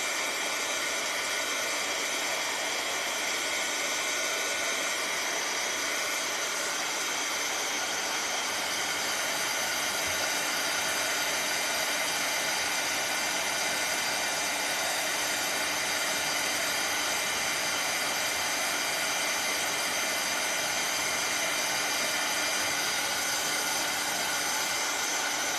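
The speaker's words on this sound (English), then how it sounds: "I'm gonna hit this one with the dryer" A steady, loud hiss of a dryer blowing on a craft piece, a constant rushing whine with no pauses or voices.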